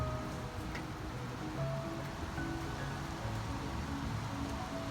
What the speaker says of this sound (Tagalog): Naku, umuulan na